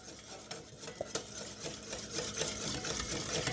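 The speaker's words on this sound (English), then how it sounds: "if you don't whisk, the emulsion won't form, and you'll have a very odd vinaigrette" Oil and vinegar being whisked into a vinaigrette, a rapid, steady rhythmic clicking and swishing of a whisk against the bowl, fairly close and continuous without talk.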